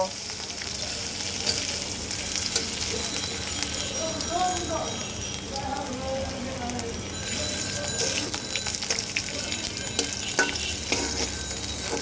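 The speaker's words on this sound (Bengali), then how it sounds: "পাঁচ ফোড়নটা দেওয়ার পর আদাটা যখন দিলাম এই দুটাকে সুন্দর করে একটু হালকা ভেজে নেব" Panch phoron and ginger frying in hot oil while cabbage is cooked vegetarian style, a steady close sizzle with some stirring scrapes, and a voice talking over it.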